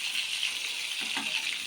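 Fish pieces frying in hot oil give a steady close hiss and crackle, with a couple of brief louder sizzling bursts from being stirred, and no one talking.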